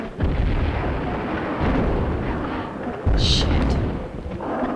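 Grenade launcher fired in the video game Tomb Raider II, two heavy booming blasts with rumbling tails about three seconds apart, loud and close, a brief higher bright burst right after the second.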